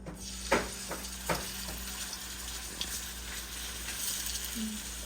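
Marinated chicken pieces frying in a little oil, a steady low sizzle with a few crisp pops and clicks as pieces are set down, over a constant background hum.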